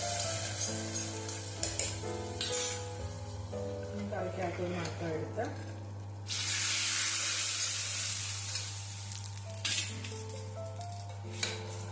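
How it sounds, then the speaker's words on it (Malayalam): Fried mustard seeds are tipped into a thickened spicy beef kanthari curry, setting off a steady, close sizzle with clinks of utensils against the pan while a voice talks over it. "ഇതിലേക്ക് നമുക്ക് ഈ കടുക് വറുത്തത് ഇട്ട് കൊടുക്കാം."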